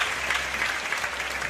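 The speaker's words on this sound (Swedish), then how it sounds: "Och varma applåder från hemma publiken för Moras spel just nu." Warm applause from the home crowd at a Mora ice hockey game, a steady dense wash of clapping filling the arena throughout without pause.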